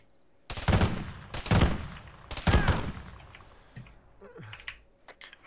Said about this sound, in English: Oh, we're taking fire from the southeast.